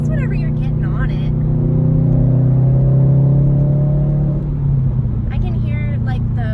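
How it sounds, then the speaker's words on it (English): A Subaru STI fitted with a K&N filter accelerates from inside the cabin, its engine droning and climbing in pitch before easing off, with a faint turbo bypass valve whoosh; a person talks over the engine at the start and end. "I can hear like the bypass valve very slightly"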